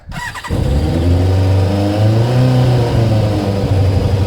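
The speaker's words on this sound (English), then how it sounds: "I'm going to get the bikes warmed up." A Suzuki Bandit and a Kawasaki ZZR600 warm up, one engine catching at the start and then holding a loud, steady idle close by with a slight wavering rise in pitch.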